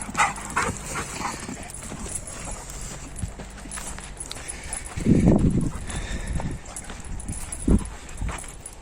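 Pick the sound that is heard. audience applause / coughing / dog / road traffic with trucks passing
dog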